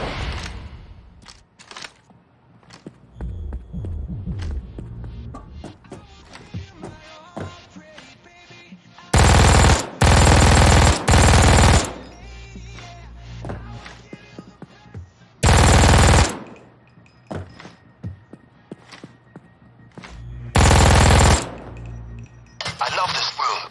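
A Buzzsaw 42 light machine gun with a normal barrel fires in PAYDAY 2, three loud sustained bursts of rapid automatic fire, with quieter shots, clicks and handling noises between them.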